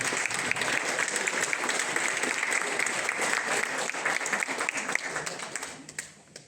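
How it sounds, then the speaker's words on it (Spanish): An audience applauds steadily to welcome Carmen Calderón to a memorial panel about La Hermida, the dense clapping holding even for about five seconds before fading out. "Recibámosla con un aplauso."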